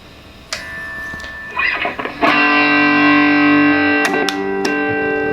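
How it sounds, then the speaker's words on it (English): Distorted electric guitar notes and chords from a 2006 Gibson Les Paul Standard with out-of-phase pickup wiring ring out with a thin, hollow, nasal tone, sustaining between a few sharp pick attacks. "another cool thing that this system has is the out of phase sound"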